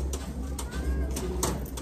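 Pigeon cooing in a loft among several fancy breed pigeons, a soft low coo carrying over a steady background hum, with a few brief bursts of other noise.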